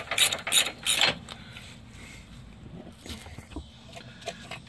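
A torque wrench tightens the oil pan bolts on a Dodge Ram with a quick series of close ratcheting clicks. A few faint metallic taps and handling noises follow.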